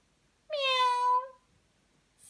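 A single clear cat meow from a children's story, drawn out for about a second and heard on its own against near silence.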